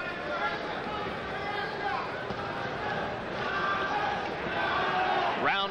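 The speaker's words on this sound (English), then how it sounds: "Crowd starting to chant Chavez, Chavez." A boxing crowd at the Julio Cesar Chavez versus Sammy Fuentes fight chants Chavez in rhythmic, swelling waves within a steady arena din, with a commentator talking over it.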